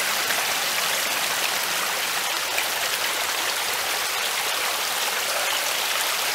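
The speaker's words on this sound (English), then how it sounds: "Can't beat the sound of a stream." A small stream flows in a steady, loud, close rush of bright water noise that holds unchanged throughout, with no voices.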